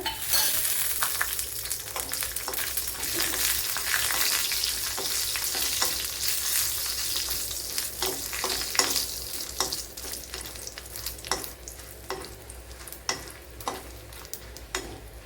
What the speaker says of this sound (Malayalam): ഇവിടെ വറ്റൽമുളക് ഫ്രൈ ആയിട്ടുണ്ട്.